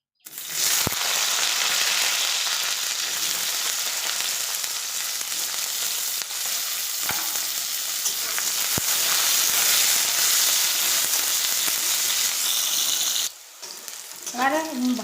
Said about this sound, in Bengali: এবার আমি বেগুনগুলোকে তেলে নেড়ে নেব।